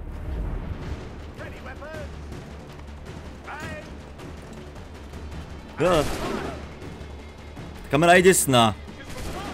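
Gunfire and combat noise in the video game Assassin's Creed 3, two loud crashing bursts over steady game background while someone talks throughout.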